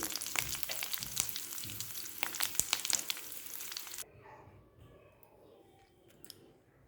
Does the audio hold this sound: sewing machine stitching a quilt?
no